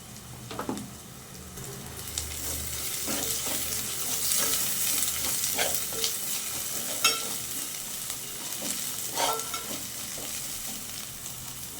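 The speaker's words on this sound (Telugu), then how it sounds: "పచ్చి వాసన పోయే వరకు జర వేపుకోవాలండి" Okra curry frying with turmeric and chili powder, a continuous close sizzle with spoon scrapes and taps at irregular intervals as it is stirred, no voices present.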